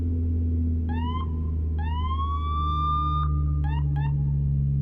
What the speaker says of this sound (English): Siren. Beautiful stuff,